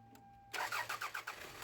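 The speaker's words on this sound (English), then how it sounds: "Now we just want to start the vehicle and verify that the leak is gone." A 1992-2001 Toyota Camry engine cranks briefly, then catches and starts after valve cover gasket work, with a few close, loud pulsing bursts as it fires up after a quiet lead-in.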